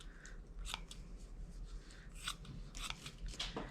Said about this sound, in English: I'm just going to take the scissors. I'm just gonna cut some slices.